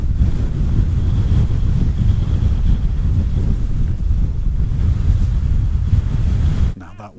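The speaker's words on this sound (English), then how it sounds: "it's just too windy" Strong wind buffets the microphone on a high fell hike in the Lake District between Howtown and Glenridding, a loud, low, continuous roaring rumble that gusts steadily throughout before dropping away abruptly at the end.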